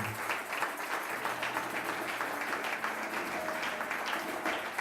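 A church congregation applauds and cheers during a worship service, a steady, dense wash of clapping and crowd noise that holds at an even level for the whole stretch.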